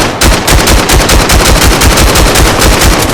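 An APC nine pro fires a rapid, continuous automatic burst in the VR shooter Vail VR. The shots are loud and close, crackling evenly throughout.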